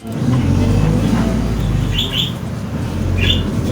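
A dolmuş minibus ride in Turkey, heard as a steady, loud engine and road rumble from inside the vehicle, with faint high chirps over the top and brief voices in the background.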